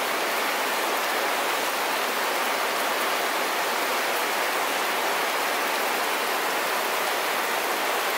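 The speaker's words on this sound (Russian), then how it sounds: "Хороший дождь идет." Heavy rain falls outside a room at the Bug sanatorium in Brest Region, Belarus, during a thunderstorm, a dense, loud, unbroken hiss of downpour on surfaces with no talking.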